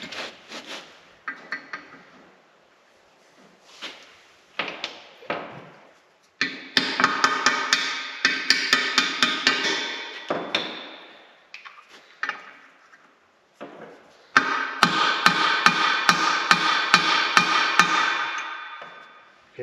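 Repeated sharp hammer blows drive a bolt through a Bobcat attachment during a repair, coming in close, loud bursts of rapid metallic strikes separated by brief pauses.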